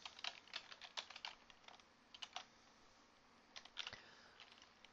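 Rapid, uneven clatter of computer keys being typed in short bursts with brief pauses, close and fairly quiet, no voices.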